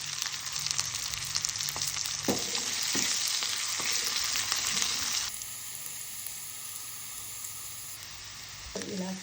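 A tempering of curry leaves, turmeric and salt fries for lemon rice, a close crackling sizzle with several spoon knocks that softens partway through.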